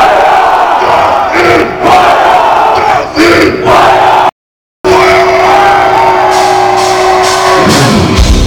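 A large metal festival crowd at Ruisrock 2010 screams and roars for Amon Amarth before Death in Fire, a loud, sustained wall of shouting voices with a brief dropout midway and a rising tone near the end.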